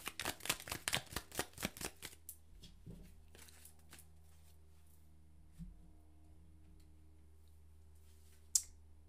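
Angel wishes oracle cards are shuffled in a quick burst of crisp, rhythmic riffles up close, followed by softer handling taps and a final sharp snap.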